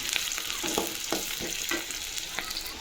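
Onions frying in a pan for a Telugu fish curry, a soft continuous sizzle broken by regular scraping stirs, close but fairly quiet, with no voices.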